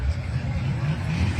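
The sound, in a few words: 1972 Plymouth Duster with a 340 engine driving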